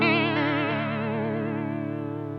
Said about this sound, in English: So then we have a vibrato.